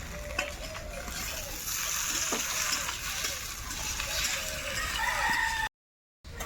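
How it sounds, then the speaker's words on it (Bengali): Tomatoes and green chilies hitting onions already fried red in hot oil, giving a steady, moderate sizzle with faint stirring clicks, then a brief drop to silence. "এখন আমি টমেটো কাঁচা লঙ্কা একসঙ্গে দিয়ে দেবো"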